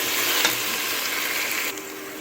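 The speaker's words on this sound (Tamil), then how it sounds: "இஞ்சி பூண்டு பேஸ்ட் போட்டுட்டு நல்லா வந்து வதக்குங்க" Ginger garlic paste sautéing in oil for egg biryani, a continuous close hiss of frying with a faint scrape, alone and without voices.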